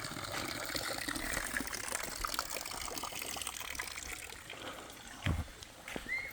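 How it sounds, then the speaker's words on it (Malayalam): Water falls steadily in Mawlynnong village in Meghalaya, a soft, continuous splashing and trickle heard at low volume from nearby, with a brief heavier splash late on. "വെള്ളം വീഴുന്നു"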